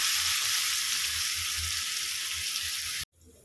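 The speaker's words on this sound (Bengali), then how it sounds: "একটু নুন হলুদ দিয়ে আলুগুলো ভেজে নেব।" Diced potatoes fry with salt and turmeric in hot oil, a steady loud hiss with faint low stirring thumps underneath, cutting off abruptly near the end, no voices.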